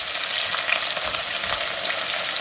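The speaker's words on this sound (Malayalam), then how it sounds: "ഉണക്കച്ചെമ്മീൻ ആയതുകൊണ്ട് പെട്ടെന്നത് ഫ്രൈ ആയി കിട്ടും" Dried prawns frying in hot oil for a pickle, an even, close crackling sizzle with faint stirring bumps, steady and unbroken with no talk.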